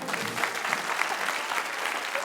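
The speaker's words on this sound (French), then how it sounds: "On peut l'applaudir, s'il vous plaît." Audience applause on a French variety show, a steady dense wash of clapping hands filling the room at moderate loudness, alone without voices.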